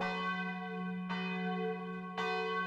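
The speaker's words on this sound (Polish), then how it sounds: "Larum bije polski dzwon, racławicki dzwoni dzwon. Czy słyszycie ton na trwogę?" Polish church bell, the Racławice bell, tolling an alarm: three loud, ringing strikes spaced about a second apart, each blooming into a long humming overtone tail with no voices present.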